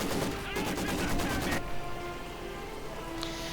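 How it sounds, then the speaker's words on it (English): Light machine gun fire in a real-time strategy battle game, a rapid burst of rattling shots up front that stops abruptly, leaving softer battlefield ambience with scattered distant sounds. "Instead he's getting Maxim crews caught out in the open by a light machine gun."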